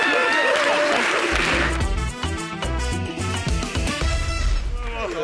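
A studio audience on a French TV show claps briefly, a burst of broadband clapping lasting under two seconds before loud, tonal music with a steady beat takes over.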